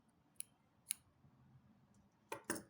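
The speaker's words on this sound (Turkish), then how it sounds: "Burada ipimi kesiyorum." Scissors snip through soft, puffy yarn while making a scarf: a few quick, close, sharp clicks, with a final pair of louder cuts near the end over quiet background.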